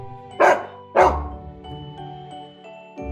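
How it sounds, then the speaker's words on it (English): A dog barks twice in quick succession, loud and close, then a quieter tonal tail rings out with faint further sounds and the start of another bark at the end. "D is for dog."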